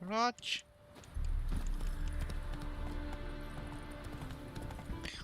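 Hoofbeats of a horse in The Witcher 3 video game, a quick neigh at the start followed by rhythmic clip-clop galloping that continues under faint game ambience.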